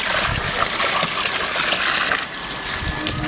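Water gushes steadily from a Kirloskar Jalraj 0.5 hp pump on a terrace garden, a continuous close rushing splash with a brief dip near the end.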